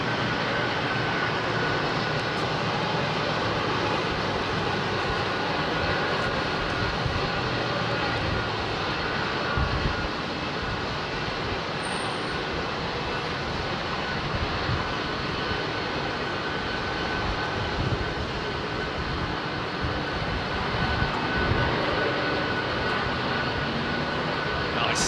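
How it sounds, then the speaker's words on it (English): A Boeing 767-400 jet taking off at London Heathrow Airport, its engines making a sustained, loud, even roar with a faint tonal whine that lasts the whole stretch. "Another 764 making its way up for departure."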